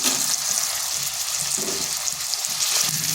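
Tomatoes with salt sizzle steadily in a hot pan as they are stirred, giving a continuous close frying hiss with soft scraping strokes throughout, no talk.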